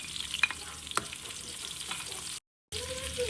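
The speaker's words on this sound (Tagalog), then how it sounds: "Tara na't magisa na po tayo. Bawang. Isunod na natin ang ating sibuyas." Garlic and onion sautéing in a pan for a seafood arroz valenciana, a steady broadband sizzle with a few soft stirring scrapes, cut by a brief silent gap before the frying noise resumes.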